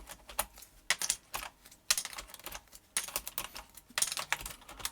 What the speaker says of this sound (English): So I'm just going to be pulling off these keycaps.